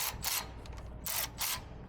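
Ratcheting wrench working the brake caliper bolts on a Mercedes Sprinter van, four short bursts of rapid clicking at close range with quiet pauses between them, no talking.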